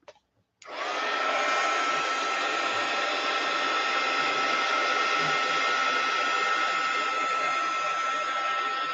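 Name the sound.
heat gun drying glue stick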